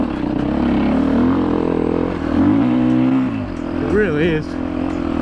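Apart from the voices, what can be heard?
dirt bike engine revving while riding on sand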